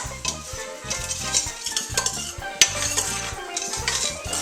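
Sauce stirred in a pot for hog head cheese, with a utensil clinking and scraping against the metal in a steady, busy rhythm close by and fairly loud, one sharper knock partway through, no speech.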